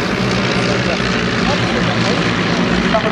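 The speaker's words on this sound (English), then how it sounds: "What a marvellous piece of precision flying there." Vintage propeller aircraft flying overhead at the Shoreham Airshow 2013, a loud, steady engine drone that continues under a commentator's voice.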